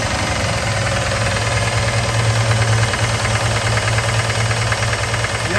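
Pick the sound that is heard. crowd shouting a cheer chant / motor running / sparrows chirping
motor running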